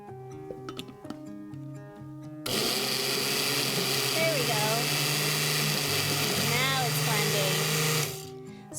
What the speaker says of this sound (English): blend this until it's extra creamy smooth